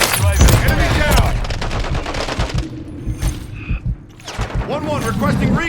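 Call of Duty Modern Warfare 3 combat, with bursts of rapid automatic gunfire close and loud, brief pauses between volleys, mixed with shouted in-game voice callouts.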